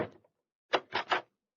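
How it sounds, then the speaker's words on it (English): Someone knocks on a dressing room door: one rap, a short pause, then three quick, firm knocks, close and clear, after a brief thud. "I'll knock on the door."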